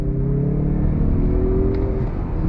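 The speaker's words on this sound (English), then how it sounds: "Let's go ahead and go on throttle from a slow roll." A turbocharged 2022 Mazda CX-30 SUV accelerates from a slow roll, its engine droning steadily and rising gradually in pitch, heard loud and continuous from inside the cabin with no talking.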